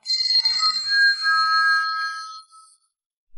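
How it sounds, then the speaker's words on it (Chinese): Telephone ringtone in an animated drama, a bright electronic melody chirping steadily for about two and a half seconds, loud and alone, then cutting off. "晚饭过后，按机上的电话响了"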